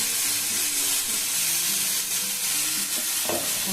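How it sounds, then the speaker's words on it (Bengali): Food with salt just added gets stirred in a hot pan: a loud, close sizzle with scraping strokes of a spoon moving through it, steady throughout, with no voices. "তারপর একটুখানি মিশিয়ে নেবো নুনগুলোকে"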